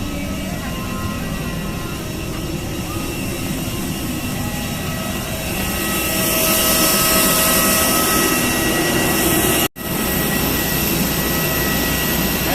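An airplane taxis after landing at Tacloban Airport, with a steady cabin engine rumble and whine that grows louder partway through and breaks off briefly near the end.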